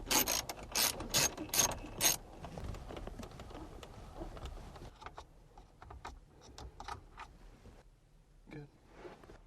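A 7mm socket ratchet clicks rapidly in several quick bursts as it loosens the climate control screws on a Silverado, close and crisp, and someone talks over quieter handling noises afterward.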